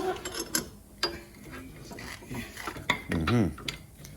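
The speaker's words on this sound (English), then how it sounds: "we're going to take this nut and tighten it, and it's going to pull what I have on the backside" A wrench tightens a nut on a bolt in a bushing press that pulls a trailing arm bushing on a minivan, giving scattered metallic clicks and ratcheting clanks, with brief voice sounds between.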